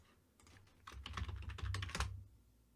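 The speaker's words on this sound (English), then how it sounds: "And probably type it correctly." Fingers tap out a quick burst of keystrokes on a computer keyboard, a close cluster of light clicks that swells in the middle and stops after a couple of seconds, quiet and without speech.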